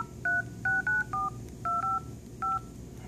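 Touch-tone dialing beeps from an LG G3 smartphone dialer, eight short dual-tone keypresses in an uneven quick sequence, clear and close over a faint low background hum, with no talking.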